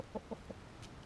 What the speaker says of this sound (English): He's the nicest rooster you ever did see.